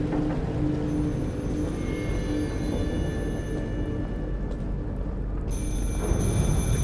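A telephone rings inside a dark survival-horror video game, its tone steady and fairly loud over a dense, rumbling ambient backdrop that continues throughout.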